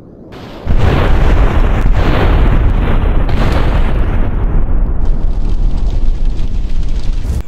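A loud explosion in GTA San Andreas Definitive Edition bursts in sharply and then rolls on as a long, dense roar and rumble that slowly fades, with no talk over it.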